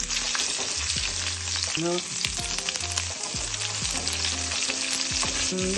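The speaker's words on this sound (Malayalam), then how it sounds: "കടുക് പൊട്ടാൻ തുടങ്ങി. നിങ്ങൾ സൗണ്ടൊക്കെ കേൾക്കുന്നുണ്ടല്ലോ." Hot oil sizzles continuously while mustard seeds crackle and pop in quick, irregular bursts, close and fairly loud.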